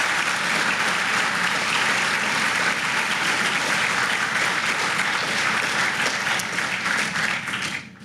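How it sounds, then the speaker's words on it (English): An audience at a hospital donation event applauds loudly and continuously, dense clapping that holds steady for several seconds before tapering off at the end. "Another round of applause for Ms."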